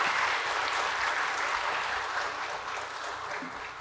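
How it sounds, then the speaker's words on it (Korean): A church congregation bursts into thankful applause during a sermon on dedicating a new sanctuary, a full, sustained roar of clapping that tapers slightly toward the end. "우리 감사의 박수."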